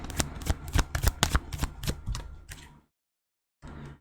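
Tarot cards being shuffled, a rapid run of close, crisp riffling flicks for nearly three seconds, then a brief pause and a softer rustling shuffle at the end.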